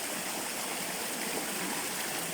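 Fast-moving river water swollen by heavy overnight rain, heard up close as a constant loud rushing with faint gurgling textures, unbroken and without any talk.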